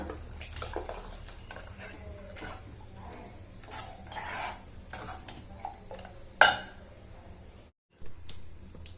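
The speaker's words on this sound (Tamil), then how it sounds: "கொஞ்சோண்டு மிக்சியில் தண்ணி ஊற்றி" Water splashes and trickles into a mixer jar at close range, with a brief louder splash and a short pause in between.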